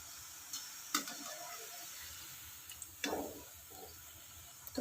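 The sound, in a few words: gathiya frying in oil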